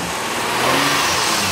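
An off-road vehicle shipped from the USA, with its engine running and revving steadily at close range, a broad continuous rumble with slight rises in pitch and no speech.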